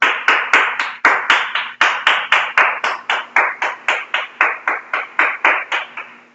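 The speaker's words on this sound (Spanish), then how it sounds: "vamos a darnos un aplauso" A few audience members at a talk clap together in a slow, even rhythm, about twenty sharp claps in a row, close and distinct rather than a blended roar.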